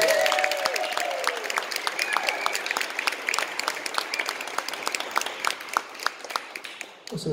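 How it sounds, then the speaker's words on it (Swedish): A concert audience claps loudly and steadily for several seconds, a dense wash of applause that tapers off near the end, with a brief voice at the start. "Och så den största applåden till vår fantastiska sångerska"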